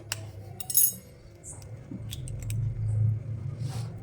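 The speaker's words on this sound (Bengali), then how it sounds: "এবার আমি বাটির মধ্যে ডিম ফাটিয়ে নেব" An egg is cracked against a bowl and broken into it while making paratha, giving a few light, sharp taps and clicks over a low kitchen hum, with no talk.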